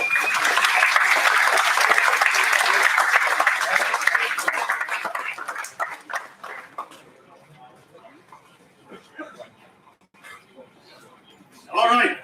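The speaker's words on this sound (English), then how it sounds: "So big round of applause there." Applause and clapping from an audience at a high school welding competition awards ceremony, loud and sustained for about five seconds before tapering into scattered claps and murmuring, with a brief burst near the end.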